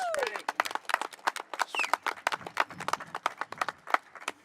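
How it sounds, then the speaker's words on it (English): Scattered outdoor applause from a small crowd at a trail ribbon cutting on a preserved hillside, uneven individual claps rising and falling over a few seconds with no one speaking. "Give him a round of applause for his work on this."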